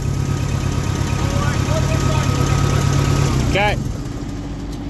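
A vehicle engine idles steadily at close range for about three and a half seconds, then cuts out and leaves a quieter hum, with a short spoken remark near the end.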